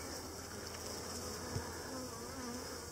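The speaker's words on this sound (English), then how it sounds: "That's a lot of bees." Honey bees at an opened hive during a summer inspection produce a steady, dense buzzing drone that stays fairly even and close for the whole stretch, with no talking.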